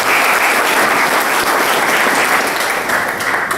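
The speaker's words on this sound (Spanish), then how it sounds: "Démosle un aplauso al magistrado" Sustained, loud audience applause at a Casa de la Democracia presentation honoring the president magistrate of the Oaxaca State Electoral Tribunal, a dense crowd clapping steadily from start to finish.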